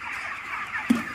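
Poultry chickens on a farm make a short run of soft clucking, with one sharper cluck near the end.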